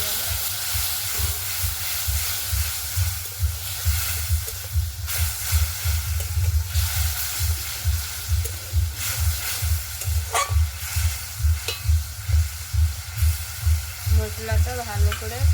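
Spice paste with turmeric fries in a pan for a goat-fat curry while it is stirred, giving a steady sizzle with a regular scraping rhythm of repeated strokes all the way through, loud and close.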